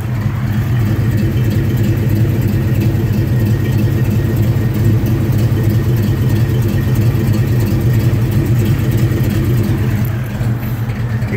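A 1977 Chevrolet Blazer K idles loud and close after a cold start, a steady deep rumble with a slight exhaust leak and a rhythmic uneven throb throughout.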